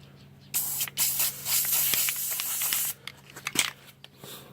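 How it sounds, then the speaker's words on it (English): A black spray can hisses steadily for a few seconds onto a car's upper control arm dust cap, then gives several short, sharp bursts. It sounds close and fairly quiet, with no speech. "I'm spraying this just for aesthetic purposes"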